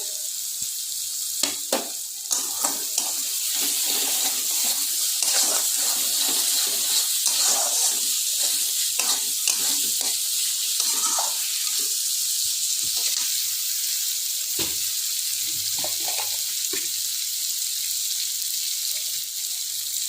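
Spice masala with ginger, garlic and chopped tomatoes fries in a pan for a fish curry, a steady close sizzle punctuated by scattered clicks and scrapes of stirring, with no talking.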